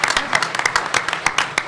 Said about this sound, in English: Can I get a round of applause for those guys?